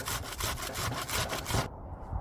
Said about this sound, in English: And now grate the onion.